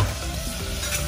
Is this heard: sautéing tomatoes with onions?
yes